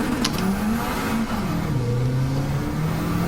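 A lowered, modified Volvo V40 T5 R-Design on racing wheels, its engine running steadily loud and close, pitch rising and dipping as revs climb and settle over a few seconds, with no voices.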